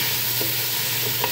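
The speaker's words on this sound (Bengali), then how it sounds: "এখন আমি দিয়ে দিচ্ছি পেঁয়াজ রসুন পেঁয়াজটা এমন ভাবে ভাজতে হবে যাতে পুড়ে না যায়" Onion and garlic fry in oil for chicken biryani, a soft steady sizzle with faint stirring clinks close by, no voices present.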